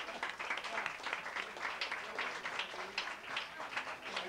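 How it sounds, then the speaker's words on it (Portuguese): Applause for two aunts at a talk on the Virgin Mary: faint, somewhat distant clapping from a small audience, rising and falling in waves, with some murmuring voices mixed in. "eu gostaria de pedir uma salva de palmas para a tia Cecília e para a minha tia aqui"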